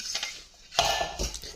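Egg galette ingredients being mixed in a bowl with a utensil, a few quick scraping and clinking strokes, close and fairly soft, then a louder burst of stirring near the end, without talk.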